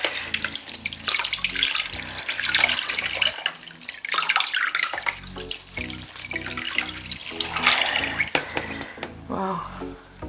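Tap water runs steadily into a sink while a peace lily plant is rinsed, splashing unevenly as the stream strikes the plant and basin, with brief pauses and faint voice in the background.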